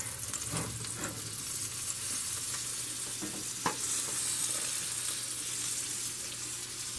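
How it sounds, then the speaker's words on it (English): Butter melts in a pan with a constant, soft, close sizzle, a few light clicks and one louder knock partway through, with no talking. "Okay, we got our butter melting."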